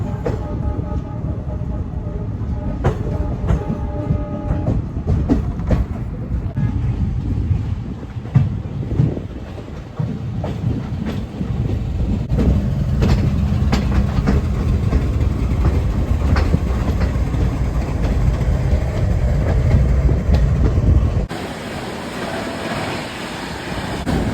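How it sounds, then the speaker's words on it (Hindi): A night train rolls along the tracks past Ghaziabad toward Delhi, its continuous rumble and wheel clatter loud and close, with wind rushing past and a sudden shift in tone near the end. "अपनी गाड़ी गाज़ियाबाद क्रॉस करती हुई दिल्ली की ओर बढ़ती हुई"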